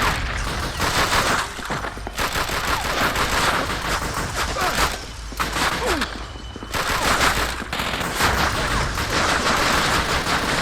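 Gunfire in the Xbox game Call of Duty: Finest Hour, set in sewers and underground tunnels, comes as dense, loud, rapid bursts of automatic shots with brief gaps between volleys.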